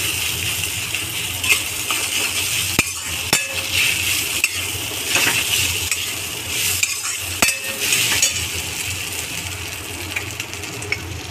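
Potatoes with turmeric frying and being stirred in a pan, a steady sizzle with repeated spoon scrapes and a few sharp clinks against the metal, close and fairly loud.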